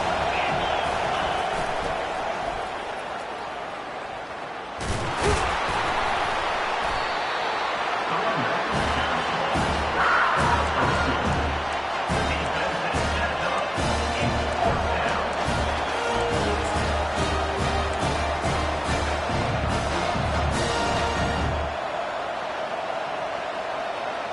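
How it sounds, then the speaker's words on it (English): A football stadium crowd roars behind the defense on third down, a sustained loud wall of cheering with claps, whoops and thumping noise building over several seconds. "Decibels rising as the crowd gets behind this defense on 3rd down"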